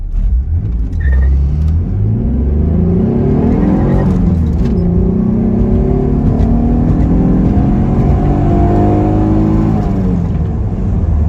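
A Mitsubishi 3000GT VR4 with a new plenum accelerates hard with the clutch slipping, its engine loud and close as the revs climb steadily and pitch sweeps upward through a gear change, heard from inside with windows up.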